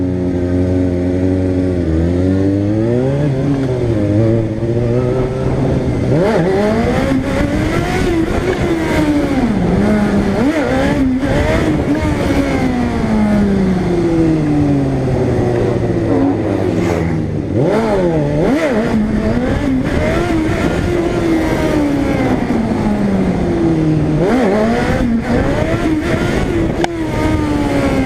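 Yamaha Tmax scooter fitted with a turbo, revved hard during stunt riding, its engine note rising and falling in long repeated sweeps, loud and close, with throttle blips and clattering between pulls.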